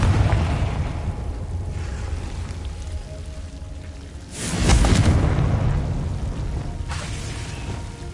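A Confringo blasting spell explodes in Hogwarts Legacy, a loud broadband boom swelling midway through a dense, roaring game soundscape, then settling back into sustained rumbling noise.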